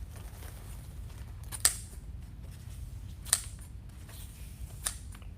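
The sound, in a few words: scissors cutting ribbons at an angle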